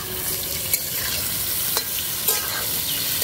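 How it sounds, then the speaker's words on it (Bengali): Cauliflower and capsicum sizzling in hot oil in a pan while being stirred, a steady frying hiss broken by a few sharp scraping knocks of the spatula. "এবারে ফুলকপি আর ক্যাপসিকামটাকে ফেলে দিচ্ছি।"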